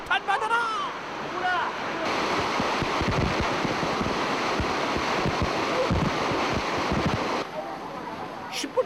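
Suraks Falls, a seven-stream waterfall, pours onto people bathing beneath it in a loud, steady, close rushing roar. Brief voices are heard at the start.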